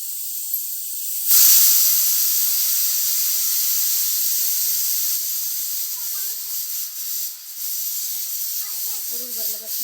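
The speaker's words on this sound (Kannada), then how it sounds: "ಮಮ್ಮಿನೂ ಮಜ್ಜಿಗೆ ಮಾಡಿ ಈಗ ಬೆಣ್ಣೆ ಕಾಸ್ತಾರ್ರಿ" Butter simmers into ghee over a low flame on a stove, giving a loud hiss that starts abruptly and then holds steady, while voices talk faintly in the background.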